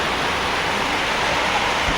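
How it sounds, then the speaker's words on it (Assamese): Heavy rain at Fakhruddin Ali Ahmed Medical College makes a loud, unbroken roar of broadband wash that stays steady throughout without any talking. "এতিয়া পূৰা বৰষুণ দি আছে, চাওক।"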